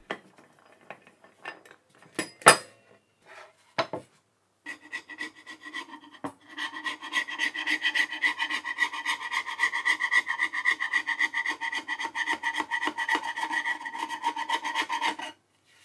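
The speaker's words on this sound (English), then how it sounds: "Once the glue was dry, I could scrape the glue squeeze out and trim off the piece to its final size on the table saw." A scraper working dried glue squeeze-out off a wooden desk piece, first in scattered sharp strokes, then a long run of fast, even rasping scrapes, close and fairly loud.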